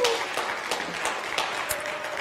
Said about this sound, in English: So we can get a big round of applause, please, for everybody that's here to play.